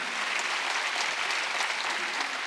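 A church congregation at a Wednesday worship service breaks into applause, a thick, even roar of many hands clapping together throughout, loud and sustained with no voices rising above it.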